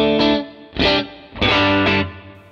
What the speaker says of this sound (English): I'm going to adjust the short reverb. It's going to sound a little bit like a hall.